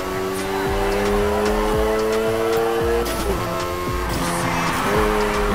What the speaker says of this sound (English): First up, let's hit a basic drift.